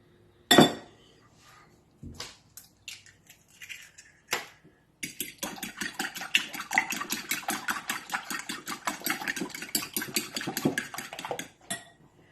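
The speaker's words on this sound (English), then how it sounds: "you're going to beat 2 eggs. I'm going to do it with a fork" Two eggs beaten with a fork in a bowl for seven grain cereal bread: a few sharp clinks at first, then a long run of quick, rhythmic metallic taps against the bowl, close and clear.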